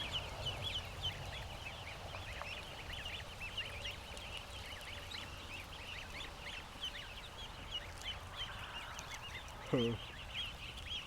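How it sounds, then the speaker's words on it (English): Ducks and ducklings on a farm give a chorus of quacks and high peeps close by, with a short louder honking burst near the end over faint background noise. "I'm surrounded by ducklings though."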